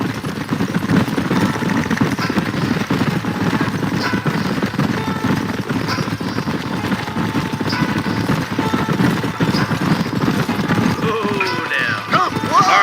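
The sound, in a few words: horses galloping, hooves clip-clopping, in video game Red Dead Redemption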